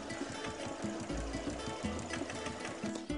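A sewing machine quilts a padded cushion, its fast, steady needle chatter running close and continuous with a brief pause partway through.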